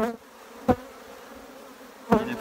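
Native honey bees buzz around a plastic hive frame full of honey during winter, a soft continuous hum with a couple of bees passing close.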